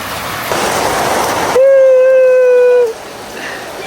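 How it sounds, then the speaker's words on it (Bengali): Rain falling outdoors makes a steady broadband hiss throughout, briefly overlaid by a loud sustained tonal whine in the middle. "কি বৃষ্টি জোরে পড়ে তো নাকি?"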